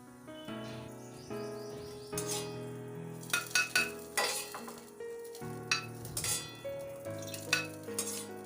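Oil sizzles steadily in a kadai as dal is tempered in a home kitchen, with a few sharp clinks of a utensil against the pan over the hissing and no voices.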